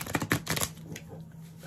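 Oversized Crow tarot cards, larger than a standard deck, being shuffled by hand: a quick flurry of papery riffling bursts in the first moment, then a quiet lull.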